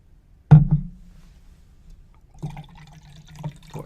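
Liquid is poured into a measuring cup in two short bursts: a sharp splash followed by a brief trickle, then after a pause a second, softer, longer pour with faint dribbling. No one speaks.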